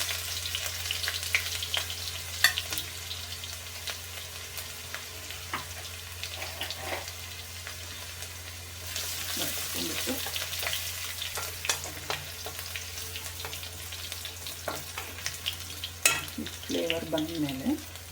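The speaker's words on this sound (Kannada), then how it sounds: "ಇದನ್ನು ಈರುಳ್ಳಿಗಿಂತ ಫಸ್ಟ್ ಸ್ವಲ್ಪ ಸಾಸಿವೆ ಎಲ್ಲ ಹಾಕ್ಕೊಳ್ಳೋಣ. ಸ್ವಲ್ಪ ಜಜ್ಜಿಟ್ಕೊಂಡಿರೋವಂಥದ್ದು ಬೆಳ್ಳುಳ್ಳಿ ಮತ್ತು ಶುಂಠಿ." Mustard seeds with crushed garlic and ginger fry in a pan with a steady sizzle and occasional stirring and scraping, joined by brief tap-water sounds near the end.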